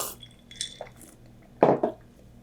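A Zombie cocktail stirred in a glass gives a few scattered clinks of spoon against glass, two louder knocks near the end, in a quiet room.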